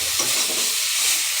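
Sautéed vegetables for a banana flower curry hiss in a hot pan with a steady, close sizzle that stays even throughout, with a faint stir near the end and no talking.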